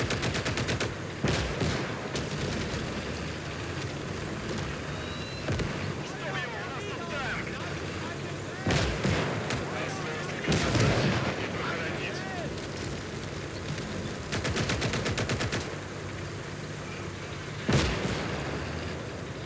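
Mortar and artillery fire in the WWII video game Call to Arms: Gates of Hell, USSR campaign: repeated sharp blasts and bursts of gunfire scattered across a continuous battle din, with a voice talking over it.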